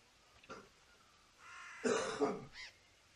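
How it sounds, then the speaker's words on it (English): A person coughs briefly, then clears the throat with a harsh, raspy burst followed by a short rough cough, close and fairly quiet in an otherwise still room. "I need to cough."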